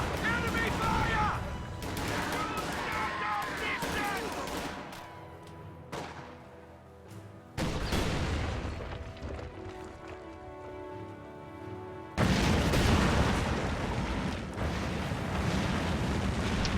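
Gunfire and artillery explosions in a war video game, dense, loud and continuous, with sudden cuts and a heavier burst near the end, mixed with shouted voices.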